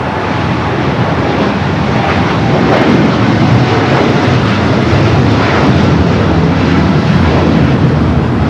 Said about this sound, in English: we do have American Dreamliner up next for takeoff